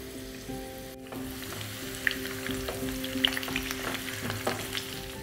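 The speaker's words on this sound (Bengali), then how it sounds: "আর আলুটা ভাজার সময় আপনারা ফ্লেমটা মিডিয়াম টু হাই রাখবেন।" Boiled potatoes fry in hot mustard oil over a medium-high flame, making a soft, continuous sizzle with occasional stirring scrapes and no talking.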